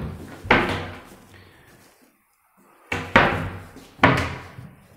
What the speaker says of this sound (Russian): Все фасады без ручек в этом пенале и открываются они на типоне.